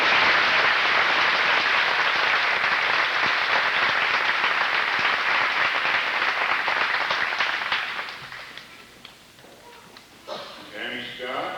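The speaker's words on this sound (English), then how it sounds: "Let's give Stacy a nice round of applause." Sustained applause fills a graduation ceremony, steady and fairly loud for about eight seconds before tapering off, with a voice speaking as it dies down.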